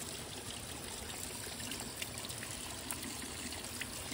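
Water trickles steadily from a cut thekee, a traditional wooden vessel, in a village setting, a faint continuous stream with soft splashing throughout, close by and without speech.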